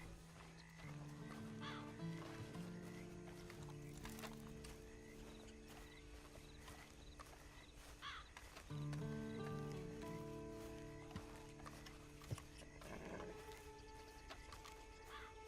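Horse hooves clip-clop steadily in a Red Dead Redemption 2 game scene, with wild animal calls, a tonal score and ambient noise layered over the hoofbeats.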